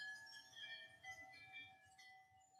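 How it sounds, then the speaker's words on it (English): Faint wind chimes ring outdoors in a continuous, overlapping shimmer of sustained metallic tones, distant and soft against a low background rumble. "those wind chimes are going crazy out there"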